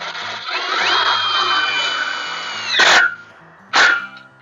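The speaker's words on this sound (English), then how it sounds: "just use the self-drilling screws to tap that in" A power drill whirs steadily as it drives a self-drilling screw into a fence stringer, then spins up twice more in short, loud bursts close by.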